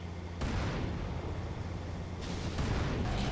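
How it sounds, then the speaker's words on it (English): Explosions in the video game Halo: The Master Chief Collection, a dense, continuous rumbling barrage with booming bursts near the start and again toward the end, loud and steady without talk. "Just explosions left and right."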